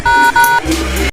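Two quick telephone keypad dialing tones sound close and clear, one after another, as someone dials a bank, followed by a brief moment of low background noise.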